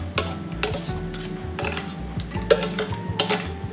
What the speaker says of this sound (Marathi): त्यामध्ये थोडीशी वेलची पूड घालते आणि आपला तयार झालेला सीताफळाचा गर यामध्ये मिक्स करून घेऊ